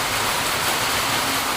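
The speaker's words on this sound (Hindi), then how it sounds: "देख रहा पानी कैसे बरस रहा है" Heavy rain pours down steadily as a dense, loud, unbroken hiss and roar at a house, with no voices over it.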